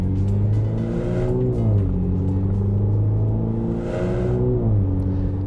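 A 2018 MINI John Cooper Works hatch accelerates hard, its engine note climbing loud and close through the gears with two clear drops at the shifts, with no voices over it.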